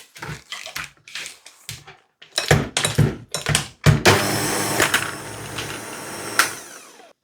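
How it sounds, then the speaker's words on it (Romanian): An electric hand mixer beating butter with cold cream for a Romanian Ramona cake, starting with knocks and short bursts, then settling into a loud continuous whirring run close by. "Voi mixa bine untul cu această cremă rece."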